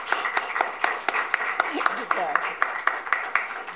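Audience applause at a literary lecture on Walter Benjamin's criticism: a run of sparse, rhythmic handclaps from a small group, with speech over them throughout.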